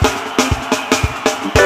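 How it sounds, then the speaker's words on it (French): A church congregation at a prayer and intercession gathering claps in unison, loud rhythmic beats roughly every third of a second, with no talk. "Clap for Jesus of Nazareth."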